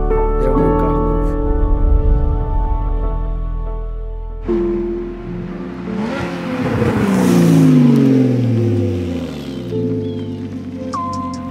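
A Porsche engine revs and roars up close, its pitch sweeping upward and falling as the throttle is pushed, with excited voices talking over the engine noise.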